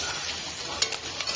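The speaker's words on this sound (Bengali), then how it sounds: "এই যে সুন্দর করে ভেজে নিচ্ছি।" Onion, garlic and chili fry in oil in a pan for a village-style Bengali dish, a steady close sizzle with a few brief scraping stirs and no voices.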